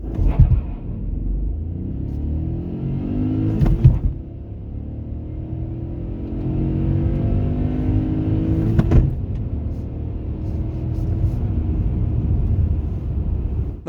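A 2022 Hyundai i30 1.0 T-GDI engine roars steadily as the car accelerates hard from 0 to 100 km/h, with a deep continuous rumble and two brief gear-change breaks along the way.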